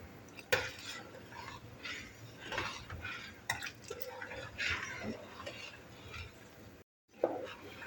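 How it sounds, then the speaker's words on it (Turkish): A spoon stirs hot milk pudding mixture (sütlaç) in a pot, with soft scraping and occasional clinks against the metal, fairly quiet with kitchen background and a brief dropout near the end. "Yine biraz daha karıştıracak."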